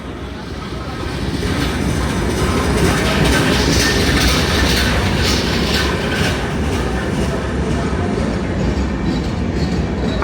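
Crowded Benapole Express train on an Eid special run from Benapole to Dhaka: a loud, continuous rumble and rattle of moving carriages fills the whole stretch, with wheel clatter running steadily underneath.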